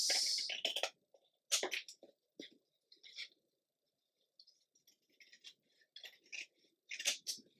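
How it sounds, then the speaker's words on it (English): Scissors snip through excess paper while ephemera are made for a handmade angel journal, a few close, crisp cuts in short bursts separated by quiet pauses, with light rustling of paper scraps in between. "Let's cut the excess."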